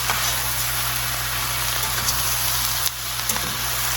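Pork tenderloin, sautéed apples and onions sizzle in a skillet with a steady, dense crackling hiss, close and continuous, with no talk.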